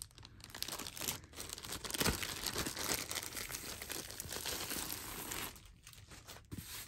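Continuous crinkling and rustling of a plastic bag holding a diamond painting, close and fairly loud, with irregular crackles and a few sharper crunches throughout.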